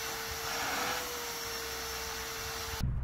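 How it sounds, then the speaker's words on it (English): A shop vac run on an extension pole sucks debris and shingle granules out of a roof gutter, its steady loud motor whine holding constant before cutting off abruptly near the end. "We are attaching a shop vac to the pole."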